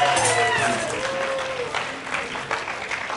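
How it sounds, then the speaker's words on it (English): Seminar audience gives a group clap, a full burst of many hands at moderate volume that carries steadily, with a few voices faintly mixed in. "Give them a SRM clap."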